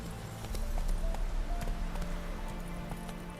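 Roach the horse gallops in The Witcher 3: Wild Hunt, a rapid, steady clip-clop of hooves close by, with a faint rustle of tack underneath.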